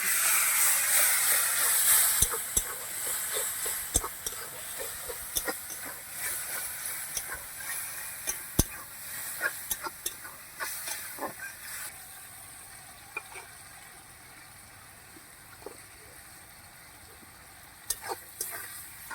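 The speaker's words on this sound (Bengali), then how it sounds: "আমি ভালো করে মশলাটা কষে নিচ্ছি" Spice paste with turmeric, sugar and sour yogurt being stirred and fried in a pan, a hissing sizzle broken by sharp spatula scrapes and clicks, fading somewhat toward the end, no voices.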